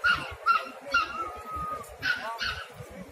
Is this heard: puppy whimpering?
yes